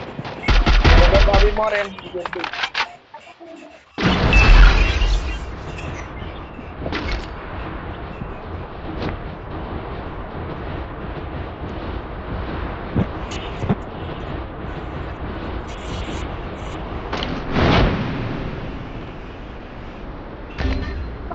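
Rapid video game gunfire, including a headshot, sounds in dense bursts with loud sharp shots near the start, then lighter scattered shots under a Bengali-speaking voice and game noise.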